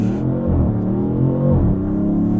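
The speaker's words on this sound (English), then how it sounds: "we're gonna stop, press launch, brake pressure, full throttle," A Dodge Charger Sixpack Scat Pack roars hard from a launch-control start at full throttle, its engine note climbing steeply through a gear, briefly dipping at a shift, then climbing again, loud and close from inside the cabin.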